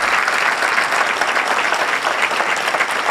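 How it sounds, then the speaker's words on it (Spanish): Loud, continuous clapping from a crowd at a local police institutional ceremony, a brief, dense burst of applause with no pause. "A todos. Un aplauso."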